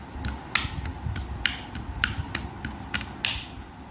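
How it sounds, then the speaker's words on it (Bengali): Cashews are pounded and crushed in a mortar and pestle, giving a series of sharp, close cracking taps in an irregular rhythm over a dull grinding rumble. "কাজগুলোকে আমি হামাদিস্তায় গুঁড়ো করে নেব।"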